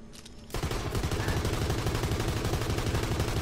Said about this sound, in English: It's this hand cannon right here. I'm gonna shoot it right now,